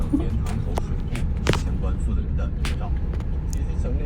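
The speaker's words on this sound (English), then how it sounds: "I turned the volume on so you could hear the radio in the guy's car" Car radio with a voice coming through, heard from inside a car on a busy Hong Kong road, steady engine and traffic rumble underneath and occasional sharp road noises.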